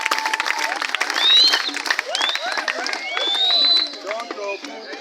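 A church youth gathering audience claps and cheers, dense sustained applause rising and falling in two swells, with whoops and voices scattered through the crowd.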